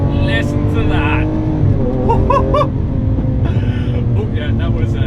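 A 2018 Lamborghini Aventador S on overrun while driving in the rain, its engine drone steady underneath with crackles and pops on lift-off, and a voice talking over it.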